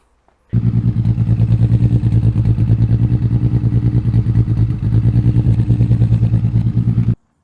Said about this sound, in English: single in, twin out muffler. No resonators, straight through as much as possible. Didn't want it too loud, which it isn't. Sounds pretty nice.